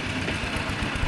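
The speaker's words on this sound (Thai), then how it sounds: "รถไถกำลังมาเลยทาง" A farm tractor approaches along a rural road in Thailand at dusk, giving a low, rough engine rumble with an uneven throb, steady and moderately close, with no talking.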